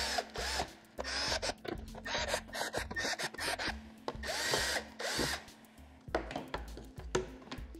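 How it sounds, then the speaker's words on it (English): Holes being drilled into a plastic container lid with a power drill, in several short bursts of whining drill noise separated by brief pauses, fairly close and alone. "You can also take your lid and drill a few holes in the lid so that there's airflow."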